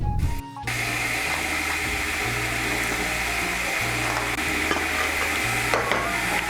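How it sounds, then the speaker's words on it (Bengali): Fried brinjal being stirred into cooked, softened gourd leaves in a pan, with a steady sizzle under repeated scraping strokes of a spoon, close and fairly loud, no talking. "বেগুনটাকে ভালো করে মিশিয়ে নেব।"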